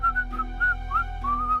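An old man fishing from his little boat whistles a short lilting tune nearby, clear wavering notes over a steady low hum.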